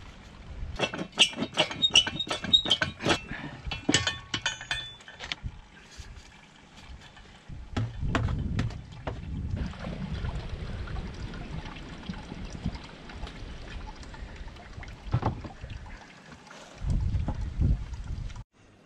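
Apple juice trickles and drains steadily from a cider press holding freshly scratted apples, pressed only by their own weight outdoors in the cold, with scattered clicks and knocks early on and no talking.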